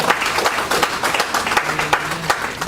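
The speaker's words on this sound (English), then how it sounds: "Let's clap for the two of them one more time" Audience at a book launch clapping enthusiastically, a loud, continuous burst of many hands with crisp individual claps standing out, lasting the full few seconds without talk over it.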